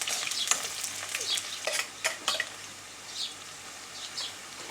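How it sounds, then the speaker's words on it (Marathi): Soft sizzling of onion and bay leaf frying in a pan, with a spatula stirring and scraping in short strokes, fairly quiet and close. "एक कांदा टाकलेला आहे हा छान मिक्स करून घ्यायचा"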